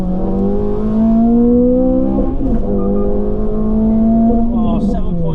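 Honda Civic Type-R FN2 accelerating hard from a standstill in a 0 to 60 run, its engine note climbing steadily through the revs with a brief dip at a gear change, loud and close, with faint talk underneath.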